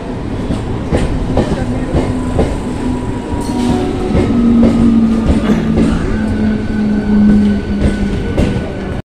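A brand-new ICF three-phase Bombardier local train on the Santragachi–Kharagpur line rumbles steadily along the rails with rhythmic clickety-clack from the wheels, a sustained loud mechanical hum and faint squealing notes throughout.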